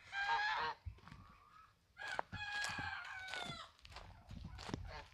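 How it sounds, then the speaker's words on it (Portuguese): Several farm geese honk loudly and repeatedly at close range, with raucous overlapping calls in bursts and brief quieter gaps between them. "Aqui tem mais gansos aqui, ó."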